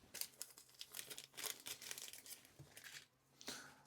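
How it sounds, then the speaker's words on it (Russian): A clean plastic bag being handled while silver capacitors are sorted, giving bursts of loud, close crinkling and rustling in irregular clusters, with no talk. "Так, а серебро возьмем пакетик. Так, надо почище пакетик вот такой."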